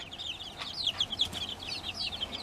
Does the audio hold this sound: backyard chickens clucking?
yes